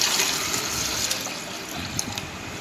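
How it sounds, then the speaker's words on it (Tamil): Water poured into a plastic bottle to fill a homemade chicken waterer: a steady, close splashing rush that runs continuously through the short stretch. "போட்டுட்டு இப்போ இதில் தண்ணியை நம்ம நிரப்பிக்கிறோம்."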